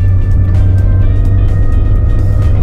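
A car engine pulls steadily in second gear at partial throttle, a loud, constant low drone with no pauses.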